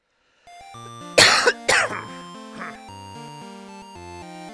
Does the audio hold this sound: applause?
no